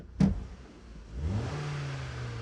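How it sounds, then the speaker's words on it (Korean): A Jeep Compass gasoline engine turns over with a short burst, then settles into a steady, smooth low hum close by, with no talking. "가솔린 엔진답게 상당히 정숙하죠"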